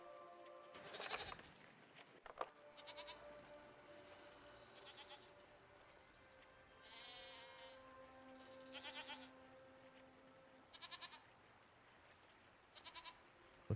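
Goat-like creatures bleating in the video game Season: A Letter To The Future, several separate quavering bleats spaced a few seconds apart over a quiet ambient background.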